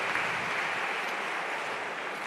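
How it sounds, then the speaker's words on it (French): Crowd applause rings through a cesta punta court after a point in a Master final, a steady, dense wash of clapping that holds at an even level throughout. "Applaudi par Imanol Lopez."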